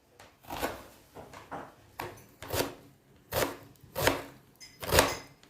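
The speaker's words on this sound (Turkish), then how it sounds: "Şöyle küçük küçük soğanlarımızı doğrayalım" Onions chopped into small pieces with a knife on a board, a steady series of soft, crisp knocks about one to two per second, close and fairly quiet, with no talking.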